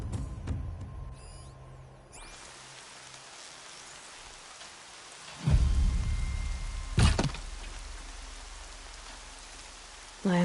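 Rain falls steadily in Horizon Zero Dawn, a soft continuous hiss, broken by two sudden heavy rumbling thunder-like hits partway through.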